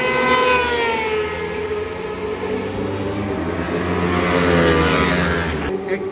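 High-performance superbikes such as a KTM Super Duke 1290, BMW S1000RR, Yamaha R1 and Ducati Panigale scream past on a race track, loud rising and falling engine whines sweeping by one after another.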